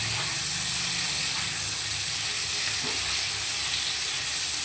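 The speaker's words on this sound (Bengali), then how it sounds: "দেখ পটলটা কীরকম মজে গেছে তার থেকে তেল ছেড়েছে এবার পটলটা সুন্দর ভাজা ভাজা হয়ে যাবে" Pointed gourd (potol) frying in a little oil in a pan after being covered, a loud, steady, close hiss and sizzle throughout with no talking.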